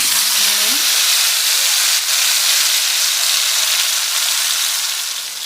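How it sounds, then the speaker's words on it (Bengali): Fish pieces frying in hot oil in a kadai give a loud, steady, bright sizzle and hiss that fills the whole stretch, with a brief voice at the start. "এখন আমরা এই তেলের মধ্যে এক এক করে ফিশ ছাড়বো"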